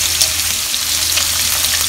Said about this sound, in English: I'm frying the prawns first